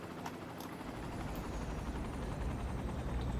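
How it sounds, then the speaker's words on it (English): A helicopter arrives in a video game, its rotor and engine roar rising steadily and filling the scene as it draws near, with no talking. "And here comes one helicopter."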